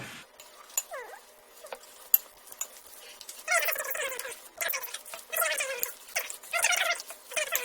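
Breadcrumbs being mixed by hand into a meatloaf mixture, wet squelching and squishing in irregular bursts that grow busier and louder after a few quiet taps.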